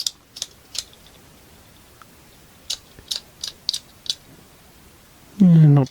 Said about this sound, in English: maybe just a little bit of a clicking noise there. Yeah, I think that bearing might be a bit noisy